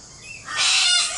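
Princess parrots chirping in a bright, dense burst of high calls that swells midway and carries on steadily, fairly close, with no talk.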